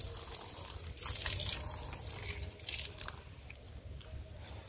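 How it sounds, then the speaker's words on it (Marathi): Water splashing and trickling as feet are washed outside a temple in Salgaon, Konkan, a steady close wet spatter with drips and squishy splashes throughout, no talk. "जरा पाय धुवून घेतो।"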